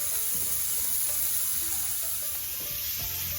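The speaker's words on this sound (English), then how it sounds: "my steak is cooking nicely" Steak sizzling in a pan, a continuous close, dense hiss with faint crackles and a low hum beneath, steady throughout with no talking.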